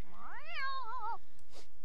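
A Sim in The Sims 4 sitting on the toilet lets out one clear, rising-then-falling meow, a voice imitating a cat, followed by a short breathy sound over steady background hum.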